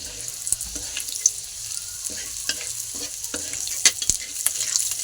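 Garlic sautéing in oil while chilli paneer is being made, a faint steady frying hiss broken by light clicks and stirring scrapes, with an occasional watery splash.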